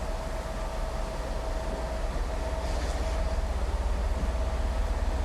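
A continuous low rumble and hiss of a Welsh train idling or moving slowly at Crewe railway station, with a steady engine hum, fairly loud and unbroken.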